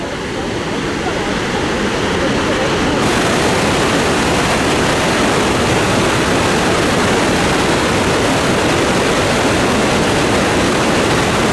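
Small waterfall beside a footbridge, a loud, dense, unbroken roar of falling water heard up close for the whole stretch, with talk faintly present underneath.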